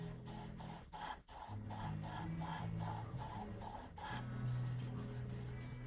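An airbrush sprays paint while it keeps clogging, giving a steady hiss cut by rapid, regular pulsing sputters and a couple of brief dropouts, close and quiet.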